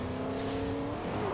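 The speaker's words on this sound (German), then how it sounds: "Kommt einer mit dem Auto." A car approaches in the Fortnite battle royale game, its engine a steady droning hum with a rising tonal whine, moderately loud and continuous throughout without any talk.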